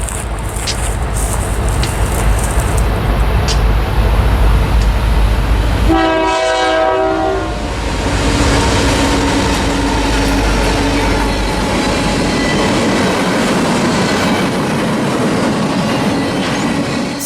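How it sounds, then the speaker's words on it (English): A CN C40-8 standard cab locomotive leading an empty wind turbine train sounds a short, loud horn blast, with the steady rumble and rolling clatter of the passing train continuing before and after it. "2035, a standard cab C40-8, leads an empty wind turbine train"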